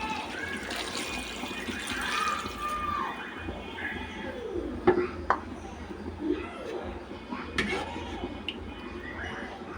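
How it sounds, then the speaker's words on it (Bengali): Broth pours into a pot of potato and egg curry in a home kitchen, a steady liquid splash and trickle with a few sharp clinks of utensils along the way. "ঝোল দিয়ে দিব।"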